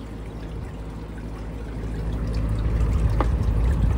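Water pours steadily into a household air cooler, a continuous close splashing trickle that grows slightly louder as it goes, with no talk over it.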